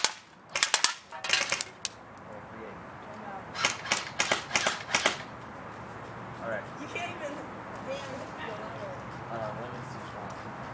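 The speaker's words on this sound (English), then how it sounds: "I almost got hit by two BBs, Eric." Several sharp BB gun shots fired at a pumpkin outdoors, first in quick clusters and then in a longer burst of closely spaced cracks, followed by quieter background sounds.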